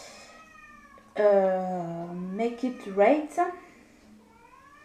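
A domestic cat meows loudly and insistently close by to be let indoors, giving a long drawn-out cry and then several shorter wavering calls, with someone speaking briefly around it.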